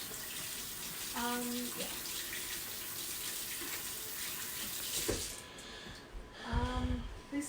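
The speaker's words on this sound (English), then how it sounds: "I'm going to wash my hands really quick" Tap water runs steadily into a kitchen sink while hands are washed, a continuous close splashing rush with brief bursts of louder splatter, and a voice speaks briefly over it.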